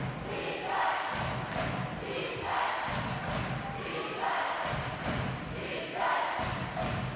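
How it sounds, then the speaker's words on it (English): A basketball crowd at a girls' high school game cheers and shouts in repeated swelling bursts, loud and close, with thuds and stomping mixed in. "that crowd's really getting into it"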